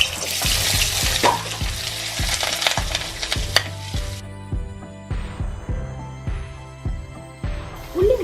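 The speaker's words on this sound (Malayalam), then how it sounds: "ഉള്ളി നല്ലതുപോലെ ഒന്ന് ഫ്രൈ ആയി വരണം." Sliced onions frying in vegetable oil in a pan for paneer butter masala, a broad sizzle with repeated stirring scrapes that drops to softer, intermittent sizzling after a few seconds, close and with no talking.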